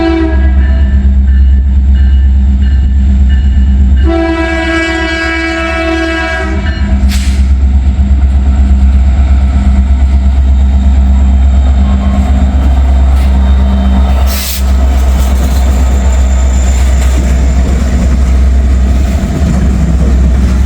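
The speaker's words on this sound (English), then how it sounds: "This is Norfolk Southern 142 with the Delaware and Hudson in the lead" Norfolk Southern train 142 led by a Delaware and Hudson locomotive rolls past near Seven Mile, Ohio, with a loud steady rumble throughout, a sustained multi-tone horn blast near the start, and rail clatter continuing as the cars pass.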